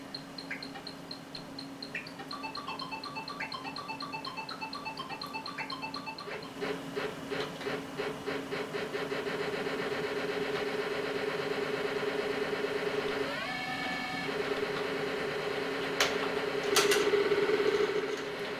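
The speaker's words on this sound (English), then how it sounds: "This is going to run from the PC speaker," Buzzy, beepy tones from the PC speaker of a 486 DOS computer play in a game, with chirping square-wave blips and pulses over a steady mechanical engine-like drone.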